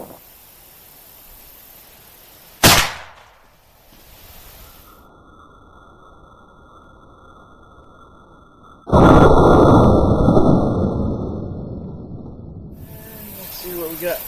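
A muzzleloader fires a Powerbelt 325 grain bullet outdoors at a water jug target: one sharp, loud report early on, followed by a fading tail, then later a sustained loud rushing noise.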